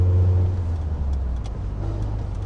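A VW Golf CTI with a 1.8 engine and manual gearbox driving, its low engine drone and road rumble filling the cabin steadily, loud and close, with no talk.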